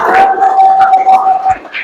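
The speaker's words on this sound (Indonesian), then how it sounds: "Tepuk tangan dulu untuk kelompok gajah." A classroom group of listeners breaks into applause and cheering for a group of presenters, a brief burst of clapping and voices with a steady whistling tone running underneath.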